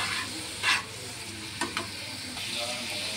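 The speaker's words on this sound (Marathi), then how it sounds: "कांदा झाला थोडासा की ते पण टाकून द्यायचं आणि कांद्यासोबतच याला छान असं परतवून घ्यायचं।" Ridge gourd sautés with onion in a pan, a steady close sizzle with a few sharp stirring scrapes and a brief knock of the spatula.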